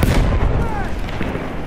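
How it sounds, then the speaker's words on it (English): A grenade goes off in a Battlefield 1 battle, a loud close boom at the start that rumbles and fades amid ongoing combat noise, with voices in the mix. "Throwing grenade."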